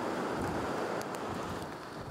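Strong gusts from Storm Doris in Great Britain roar as a loud, broadband rush buffeting the microphone, steady and close throughout with no voices.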